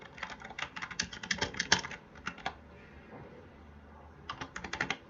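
Quick bursts of clicky typing on a computer keyboard while entering a column title on a web page, close and crisp, with a pause of scattered faint taps before a final rapid flurry.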